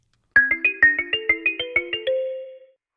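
A phone plays a text message notification tone, a clear, loud melody of about a dozen quick electronic chime notes that stops cleanly after a sustained final note.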